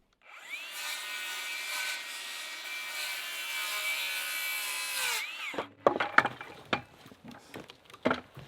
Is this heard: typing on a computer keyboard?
no